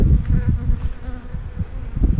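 Honeybees at a hive buzz loudly and close by, a dense droning hum that swells and dips as they fly around, with no talking.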